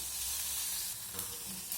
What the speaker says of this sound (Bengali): সব কিছু আবারও নাড়িয়ে চাড়িয়ে কিছুক্ষণ ভেজে নেব